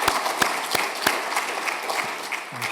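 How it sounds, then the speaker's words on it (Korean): A church congregation claps for the youth group during a Sunday service, a short spell of moderate, scattered applause in a large room with a few distinct louder claps. "우리 청년들에게 다시 한번 큰 격려의 박수 부탁드립니다."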